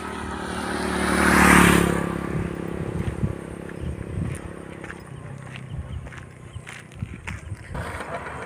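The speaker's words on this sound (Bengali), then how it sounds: "আর যে মোটর সাইকেল আসছে" A motorcycle approaches on a road near a bypass, its engine noise rising to a peak and fading as it passes close by, followed by rattling road noise.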